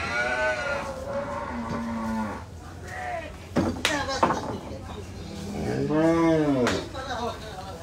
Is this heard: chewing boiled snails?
no